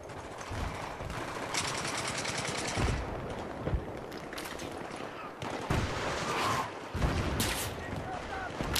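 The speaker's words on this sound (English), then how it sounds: "I'm being sniped by someone" Heavy gunfire in the shooter Battlefield 3 while under sniper fire, sharp cracks and rattling bursts mixed with explosions in a noisy, chaotic battle soundscape, fairly close and dense throughout.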